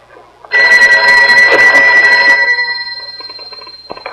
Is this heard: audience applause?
no